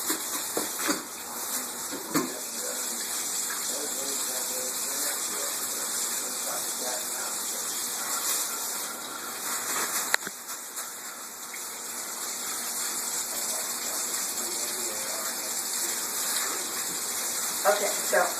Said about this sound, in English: with everything, you always got to rinse your meat off